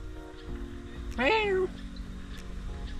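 A cat gives a single clear meow, rising then falling, close by over a low steady hum and quiet background noise.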